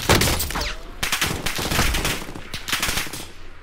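Rapid automatic gunfire in Call of Duty Warzone, bursts of close, loud shots crackling in quick succession with brief gaps between volleys.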